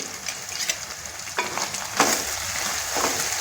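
Cucumber pieces fry in a pan for a raw prawn curry, a steady sizzling hiss with a couple of sharp spatula knocks and stirring scrapes, close and without speech.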